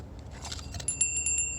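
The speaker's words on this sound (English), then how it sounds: "Special bells." Small bells jingle lightly after some faint rustling, then several bright, clear rings sound in quick succession, close and fairly soft.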